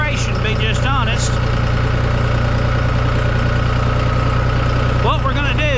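A Big John tractor engine runs loud and steady throughout while pushing a trailer with a chain in a sorghum field, a continuous close drone with no pauses.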